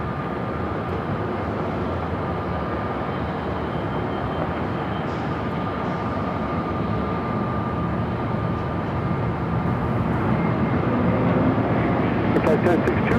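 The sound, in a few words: Lufthansa airliner on final approach at LAX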